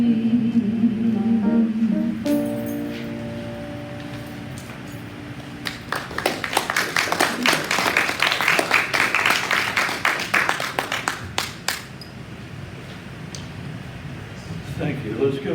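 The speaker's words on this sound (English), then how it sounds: "Let's give another round of applause for our musician for today, Jennifer Powell" An audience in a church service setting breaks into applause for the musician after a sustained tone fades, a dense patter of clapping building for several seconds before tapering off.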